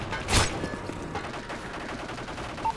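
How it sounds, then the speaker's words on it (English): Gunfire aimed at a sentry gun in Call of Duty Modern Warfare 3 Special Ops Survival on the Outpost map: one sharp, loud burst of shots near the start, then quieter scattered firing under a steady background. "Sentry is taking heavy fire."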